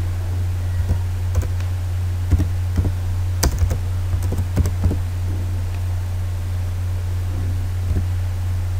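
Keys on a computer keyboard are tapped in short, irregular bursts of close, crisp clicks over a steady low electrical hum, with no talking.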